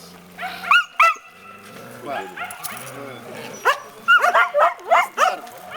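Several dogs bark and yip in short sharp bursts at a dog show, close and loud, with whimpering in between and people talking underneath.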